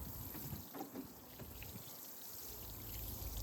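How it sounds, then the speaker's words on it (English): Water poured from a watering can over newly planted overwintering onions and garlic in a garden bed, a steady close splashing trickle running for several seconds without talk. "quick water with a watering can"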